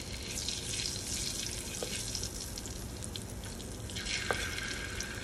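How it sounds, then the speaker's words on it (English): Curry with ginger sizzles in a pot, a steady close frying hiss that carries on throughout, with a couple of faint drips or clinks in the mix. "I'm going to pour it in the pot."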